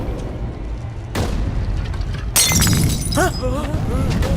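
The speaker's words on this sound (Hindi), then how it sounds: "वो पेट्रोल बम फेंक रहे हैं।" Petrol bomb thrown in an action film fight scene shatters and bursts into a loud fiery boom, a sharp glass crash followed by a roaring blast amid music and shouting voices.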